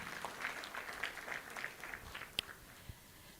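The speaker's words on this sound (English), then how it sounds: "Another round of applause, please." Scattered applause from a conference audience at a 2024 South African student leadership gathering, quiet and thin-sounding, with a few sharper claps standing out near the end.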